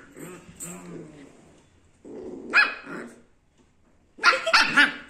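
A dog barks and growls at another dog during rough play between two dogs, with a low grumbling start followed by a sharp bark and then a loud burst of several quick, close barks.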